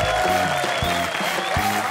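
A studio audience at a comedy game show applauds the team captains, steady clapping heard under a music bed with rhythmic low thumps.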